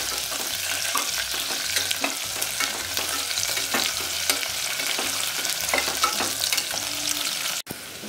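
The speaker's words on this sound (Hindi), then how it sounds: "बहुत ही अच्छी तरह से ऑनियन और सारे मसाले को फ्राई कर लिया" Onions, green chilli, red chilli and spices sizzle steadily in a pan with a continuous hiss and frequent light stirring scrapes, ending in a brief sharp clack.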